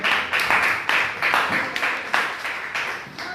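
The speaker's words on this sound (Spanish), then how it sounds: "Y si le puede dar una ofrenda de aplauso a Jesucristo en esta noche." Church congregation giving an offering of applause to Jesus Christ during an evening service, a dense steady wash of many hands clapping with rhythmic pulses, fairly close and continuous throughout.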